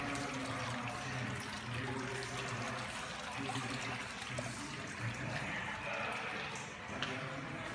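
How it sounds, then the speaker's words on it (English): Water features run at a mansion in Cabo, giving a soft, continuous trickle and splash, fairly faint and steady, with a low hum underneath throughout. "water features"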